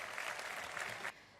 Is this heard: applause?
yes